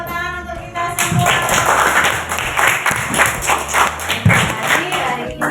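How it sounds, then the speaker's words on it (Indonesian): Children in a classroom clap their hands together in a burst of lively applause, close by, with some cheering voices mixed in. "Coba tepuk tangan untuk kita semua."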